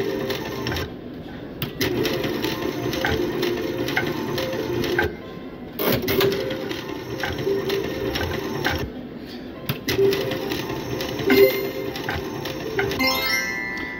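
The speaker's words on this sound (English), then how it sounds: "A couple of you have said you don't know how these slot machines work." Casino slot machine at a resort casino plays, mechanical whirring and clicking with electronic chimes, steady and close, with brief gaps and louder bursts, and a voice may briefly talk under it.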